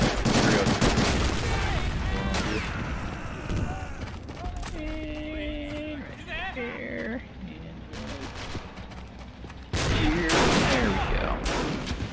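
Artillery fire and gunfire in the Pacific War battle of Clarence Hill in Men of War Assault Squad 2, with loud, dense bursts of shots and booms layered under game sounds, easing in the middle and swelling again near the end.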